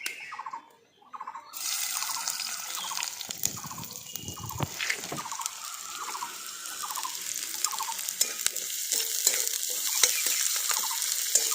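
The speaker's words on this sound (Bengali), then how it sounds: "আমি এই পেঁয়াজগুলো তেলের মধ্যে দিয়ে দিচ্ছি" Sliced onions drop into hot oil and a loud, steady sizzle follows, crackling and spattering close by with occasional stirring scrapes, continuing unbroken for the rest of the clip.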